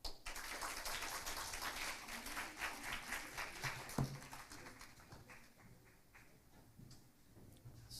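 Audience applause for a professor and presenters at an international law symposium, a steady crowd of clapping hands that carries on for several seconds before thinning out slightly toward the end.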